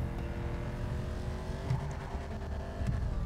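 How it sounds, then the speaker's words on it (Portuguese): Camaro in GTA V revving against its rev limiter, a steady high-pitched engine drone with rapid stuttering cut-outs, loud and close, with no voices over it. "cortando o giro ainda o Camaro"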